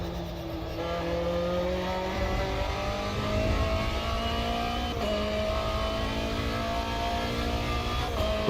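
Sim-racing GT car engine from a racing video game, a steady loud drone with rising pitch lines as the car accelerates through gears, layered with mechanical transmission whine, continuous throughout with no voices.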